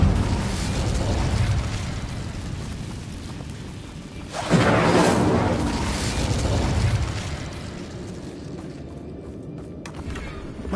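Incendio fire spell cast in Hogwarts Legacy: a loud whooshing burst of flame erupts midway through a busy, rumbling game soundscape, then fades back into the ambient bed.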